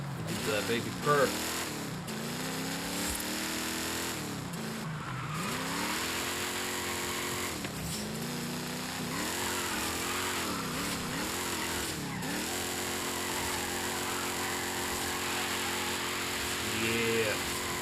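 A Dodge Dart car engine drones steadily, its revs rising and falling in smooth swells and dips through the whole stretch, with a few brief sharper blips layered over the continuous hum.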